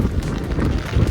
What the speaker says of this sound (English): It is very, very windy out